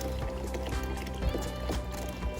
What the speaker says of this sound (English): So now I have to use a strainer